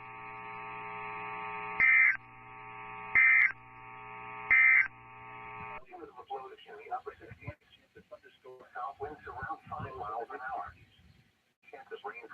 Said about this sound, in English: This has been a test of the NOAA weather radio warning alarm device.